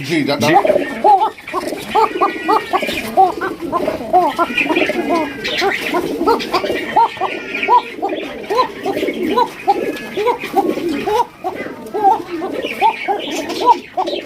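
Several pigeons coo repeatedly in soft, throaty bursts, close by and continuous, with people talking over them.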